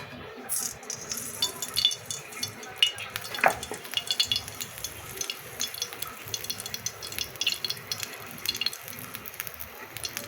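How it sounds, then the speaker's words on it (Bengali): Oil poured into a hot pan before frying a beaten egg, with a soft, steady sizzle and a few stirring clinks of utensils against cookware, fairly quiet and unbroken by talk. "এখানে আমি এখন তেলটা দিয়ে দেবো"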